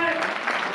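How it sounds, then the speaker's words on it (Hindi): Applause from a crowd at a school silver jubilee and alumni meet, sustained clapping that swells and dips slightly, with a voice carrying over it. "2000 तालियों के साथ इनका स्वागत किया जाए।"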